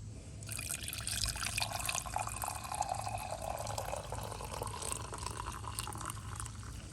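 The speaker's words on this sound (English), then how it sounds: "Got my coffee cup, and I'm just going to sit there and take this and pour some in there." Brewed coffee pours from a Stanley Boil and Brew press into a cup in one steady, splashy stream that lasts several seconds, then tapers with a few trickles. The pour is quiet and close, with no talking.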